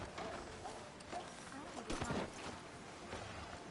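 Horse hooves clip-clop in Red Dead Redemption 2, a steady, moderately loud trot under light background noise, with a voice speaking over part of it.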